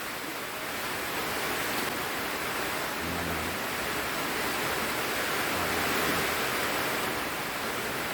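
Steady, dense hiss of rain pouring down, an even wash of noise that holds for the whole stretch without letting up.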